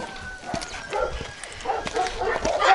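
A small dog barks in short yips and whimpers in a field with sheep nearby, the sounds scattered and moderately close over wind and background noise.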